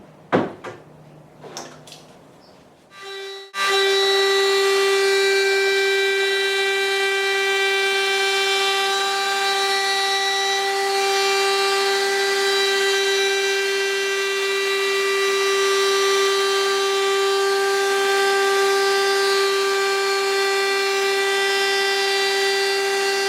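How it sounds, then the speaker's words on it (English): A router fitted with a flush trimming bit runs at a loud, steady high-pitched whine while trimming excess material flush with a built-up cabinet top, after a few brief knocks and handling sounds at the start. "this will trim off the excess material that's protruding above the surface of the top"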